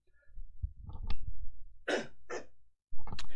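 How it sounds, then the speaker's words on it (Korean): A few short, harsh coughs close to the microphone, preceded by throat noises and breathing, then another rough burst at the end. "기침 소리 죄송해요."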